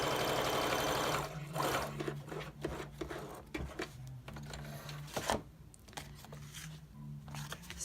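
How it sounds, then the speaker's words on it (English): Sewing machine stitching paper journal pages, a steady mechanical whir with rhythmic needle hum starting after a second of louder noise, close and moderately quiet with no talk. "I'm going to put my needle down and sew right between those 2 pages."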